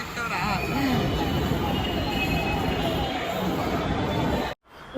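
A Hyderabad metro train rolls along near Gandhi Bhavan station with a loud, continuous rumble and rising whine, then cuts off abruptly near the end.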